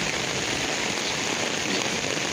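Rain falls in a steady, dense hiss that stays at an even level from start to finish, close and unbroken, with no talking.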